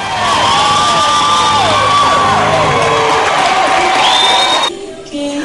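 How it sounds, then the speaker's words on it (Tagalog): A loud crowd cheers and shouts continuously at a Filipino community viewing and voting party in Chula Vista, with high voices rising over the din, then it drops off abruptly near the end. "Panayang hiyawan sa tuwing ipinapakita o nababanggit si Jessica."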